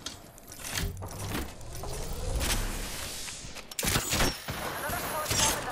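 Bursts of rapid gunfire from Apex Legends gameplay, several volleys with mechanical clicks between them, mixed under a player's speech.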